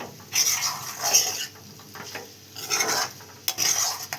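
Spoon scrapes and stirs a spiced potato mixture with cumin and mustard seeds in a pan, in several close scraping bursts with short pauses, with no talk.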